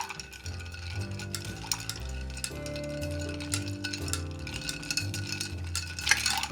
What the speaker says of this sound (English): And I guess it's stirring time.